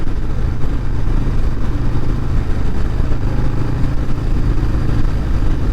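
A 2026 Harley-Davidson Breakout rumbles under way, its engine a loud, steady low drone with a constant roar that holds without pause from start to finish.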